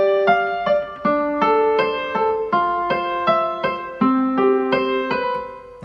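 Piano left hand playing bars 17 and 18 of a song, a repeating pattern of clear, close single notes with a steady rhythm, alone without talk.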